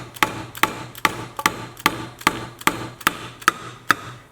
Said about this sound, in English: as I was tapping it, you could hear it was like a hollow sound